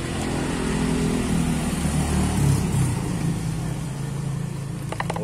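A Yamaha Vega ZR motorcycle engine freshly back from carburetor service, revved loudly and steadily for a few seconds at close range before easing down to idle, with no talking over it.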